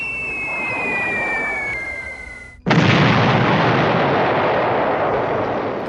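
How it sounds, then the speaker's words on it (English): A bomb-drop sound effect for a B-17 Flying Fortress bombing board game: a steady falling whistle that drops in pitch, cuts out, then a sudden loud explosion that holds as a thick, sustained roaring rumble to the end. "The group drops their bomb load"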